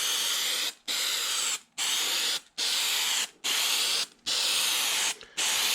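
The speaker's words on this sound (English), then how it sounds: "I've got to spray these pieces, which is going to be tricky" An aerosol can hisses in seven loud bursts, each lasting just under a second, separated by brief silent gaps in an even rhythm, spraying seat cover pieces for a 1998 Dodge Ram 1500.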